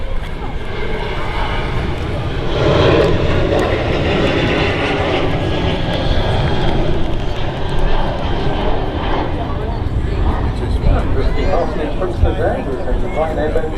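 A Ryanair airliner rolls for take-off at Manchester Airport, a loud, steady engine roar that swells over several seconds, heard from outdoors with a person talking over it and background chatter.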